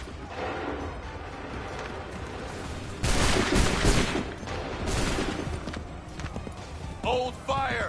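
Musket volley gunfire in the Assassin's Creed 3 video game, a burst of shots partway through amid galloping horse hooves and battlefield noise, with shouted voices over the top.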